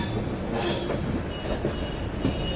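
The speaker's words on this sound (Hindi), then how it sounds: "तो वहाँ पर कोई समर स्पेशल ट्रेन अभी आई है जस्ट।" Summer special passenger train pulling into Varanasi Junction station, a steady loud rumble of railcars with wheel squeal and faint clacking throughout, no talk.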